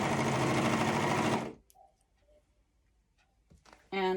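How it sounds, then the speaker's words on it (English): A serger stitches through faux fur fabric in a loud, steady mechanical whir for about a second and a half, then stops, leaving quiet handling noises before a brief burst of motor at the end. "I prefer using the serger to the sewing machine because it cuts off all that bulk"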